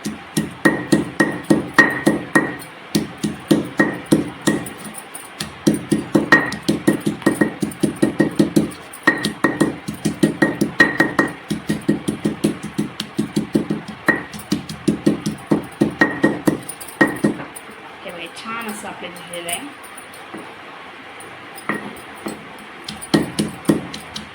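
Garlic is pounded finely for a village-style Maharashtrian dried bombil thecha: rapid, close rhythmic thuds come in long bursts with short pauses, then thin out toward the end.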